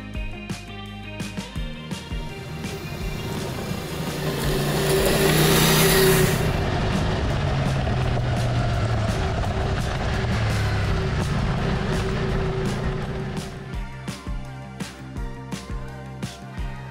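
A Ducati Multistrada V4S motorcycle rides onto a dirt road through Mexican countryside, its engine swelling to a loud roar midway and then easing off, with sharp clicks and knocks scattered throughout.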